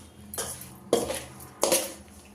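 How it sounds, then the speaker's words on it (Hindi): Amla and green chili pickle ingredients are stirred with a utensil against a metal bowl in three scraping, clinking strokes, each with a sharp onset and fading tail, with no voices. "अब सारी चीज़ों को हम अच्छे से मिक्स कर लेते हैं"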